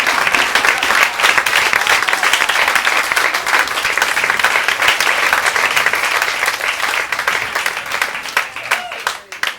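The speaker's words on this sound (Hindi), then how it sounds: "आप पुनः तालियां बजा दीजिए।" Audience applause at a Hindi kavi sammelan comedy show, dense steady clapping from a large crowd lasting throughout and thinning slightly at the very end.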